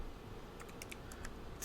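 Someone types CSS code on a computer keyboard, producing a quick cluster of soft key clicks in an uneven rhythm, faint and close, with no talking.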